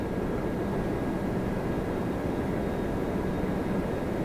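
Heavy jet airliners approaching Toronto Pearson Airport produce a constant distant, low roaring rumble of engines that stays even and unbroken throughout, with no other distinct sounds.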